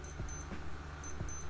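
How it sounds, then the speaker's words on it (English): Casio W-800H digital watch alarm going off, quick high-pitched electronic beep bursts repeating in a steady pattern, thin and fairly quiet with faint thumps of handling and no speech. "we should not wait too long to hear the alarm goes off"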